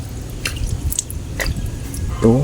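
Water drips from a leak in a few separate, soft drops over a low background rumble, and a voice briefly starts at the end.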